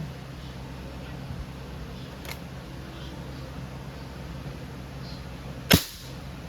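A WE M92 full-metal silver airsoft pistol fires once through a chronograph, a single sharp close crack over a quiet room hum, with a fainter click shortly before.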